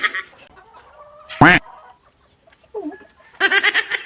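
A chicken clucks and squawks in short bursts, with one loud harsh call near the middle and a quick run of clucks at the end, all fairly close.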